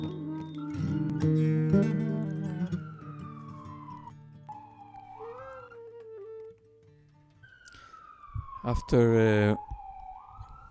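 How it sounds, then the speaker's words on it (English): An emergency vehicle siren passes outside during a Friday evening Kabbalat Shabbat service, its rising and falling wail sweeping through the second half, loud at its peak, following singing and voices. "there's a siren here"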